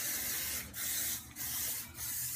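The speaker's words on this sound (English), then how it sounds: "spray around the back and the top so that when I finally do get up in a ponytail" Hairspray hisses from an aerosol can onto hair in three long bursts separated by short pauses, close and loud.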